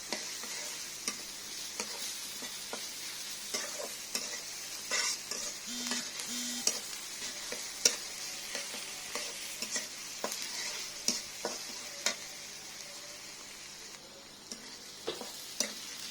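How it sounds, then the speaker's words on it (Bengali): Onions fry quietly in a pan while a spoon stirs them, with soft intermittent scrapes and taps over a faint, steady sizzle, fairly distant and low in level, without speech. "আমি পেঁয়াজটা নাড়তে থাকবো"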